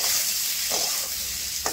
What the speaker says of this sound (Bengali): আলু দিয়ে একটু সিদ্ধ করে সেটা ভাজা করতেছি